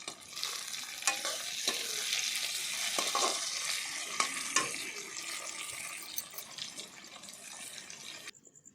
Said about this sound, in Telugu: వేసేసి బాగానే ఫ్రై చేయాలి.